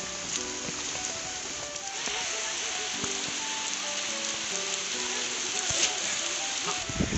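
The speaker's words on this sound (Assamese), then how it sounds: "এতিয়া এইফালে চাওক পুৰা বৰষুণ" Heavy rain on a hillside in Likabali, Arunachal Pradesh: a dense, steady hiss of downpour fills the whole stretch, with faint voices talking underneath.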